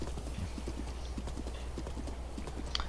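In the Breath of the Wild video game, a galloping horse's hooves beat out a fast, steady clip-clop rhythm under faint background music, with no speech.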